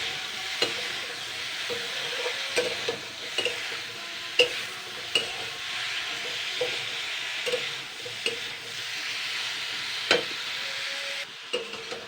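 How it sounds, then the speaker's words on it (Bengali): Flat beans with spices fry in a pan, giving a constant soft sizzle and hiss. Repeated sharp scrapes and knocks of stirring come through at irregular intervals, close by. "এবার আমি এগুলো দিয়ে আরও 2-3 মিনিট মতন ফ্রাই করে নেব।"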